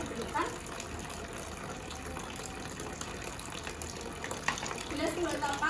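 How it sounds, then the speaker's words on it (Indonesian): Tap water runs steadily while hands are rinsed palms-up, a continuous close splashing gush with uneven surges of hands moving through the stream. "Bilas kedua telapak dengan air dengan posisi tangan menengadah ke atas agar kuman jatuh ke bawah"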